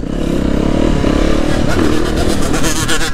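A Yamaha YZ50 two-stroke dirt bike engine revs hard and close, a loud buzzing, rising whine with rattling and clatter, while voices shout excitedly nearby.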